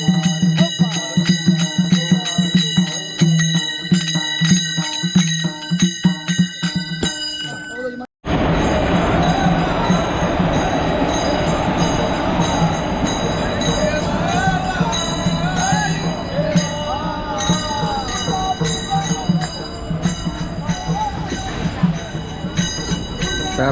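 A train at Daund chord line station, with continuous loud rumble and clanking of rail cars, bell-like chimes and crowd noise throughout, cut briefly near the start by a short gap.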